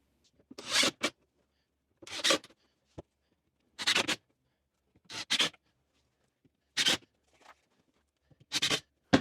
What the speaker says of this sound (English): Now I'm going to screw some in from the bottom.